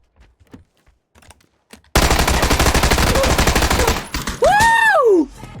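Sustained automatic gunfire in the battle-royale shooter PUBG, a loud rapid burst lasting about two seconds after a quiet stretch, followed by a sweeping whistling effect and a second short loud burst.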